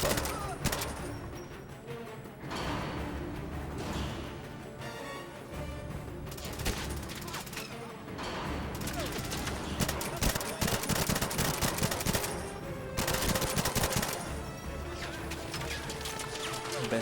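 Dense gunfire fills a firefight in the 007 Legends video game on Wii U, rapid overlapping shots and bursts layered over a constant loud background of music and action noise.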